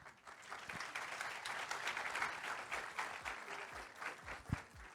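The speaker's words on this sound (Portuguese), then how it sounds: "recebam as nossas salvas de palmas" Audience applause welcoming guests to a conference panel on AI in the beauty industry, a dense round of clapping that swells, then thins into scattered individual claps toward the end.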